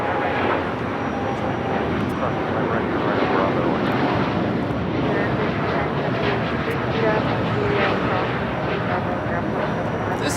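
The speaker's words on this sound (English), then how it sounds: "This is Japan Airlines Flight 69 taking off to Osaka on the 787-9 Dreamliner." Japan Airlines Boeing 787-9 Dreamliner taking off at Los Angeles International Airport, a broad continuous jet roar that holds steady and loud, with people talking over it.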